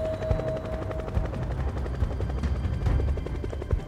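A helicopter flying over a search and rescue mission on Louisiana waters after a boat accident, a steady rapid rotor thump with engine whine, fairly loud and close, alone.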